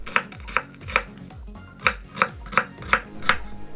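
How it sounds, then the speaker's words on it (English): A knife slices through a vegetable on a cutting board into large sections, about nine crisp, evenly spaced chops landing on the board, close and clear with no talking. "we are going to slice it into large sections"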